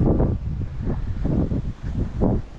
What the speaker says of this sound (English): It was windy yesterday, but not like today